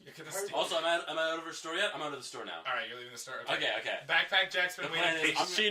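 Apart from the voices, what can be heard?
No distinct noise like a dog, phone or traffic.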